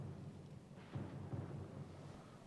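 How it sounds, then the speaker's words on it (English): A storm in the video game Pillars of Eternity II: Deadfire, with low rolling thunder rumbles swelling in a couple of bursts over a steady wash of wind and rain noise. "The storm's pretty loud."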